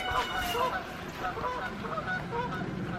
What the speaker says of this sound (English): do y'all hear the geese?